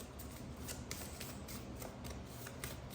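A deck of tarot cards is shuffled for a reading, producing quick, faint riffling and flicking bursts in a steady rhythm, close but quiet, with no speech.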